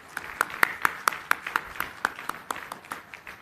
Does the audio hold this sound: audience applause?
yes